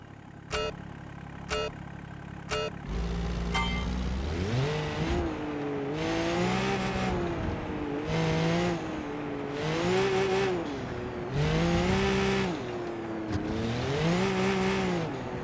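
Mudslide Gladiator car in the BeamNG driving game, starting with a few sharp clicks, then the engine revving and climbing through repeated acceleration pulls and gear shifts, loud and close without speech.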